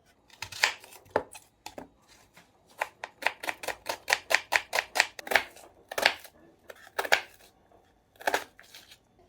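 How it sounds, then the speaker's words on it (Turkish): A knife chops onion on a board in quick rhythmic bursts, sharp close taps with a few short pauses between runs. "Öncelikle soğan doğrayalım."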